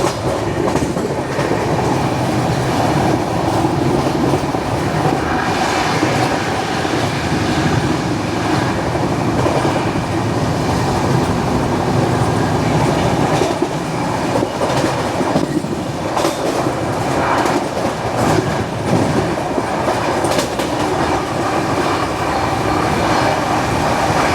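Up close, the Howrah–Bengaluru SF Express (12863) speeds along at roughly 130 km/h in heavy fog, a sustained roaring rush with a steady clickety-clack of wheels and faint squeals, unbroken for the whole stretch.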